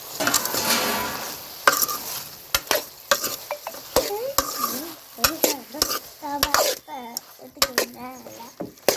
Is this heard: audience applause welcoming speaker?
no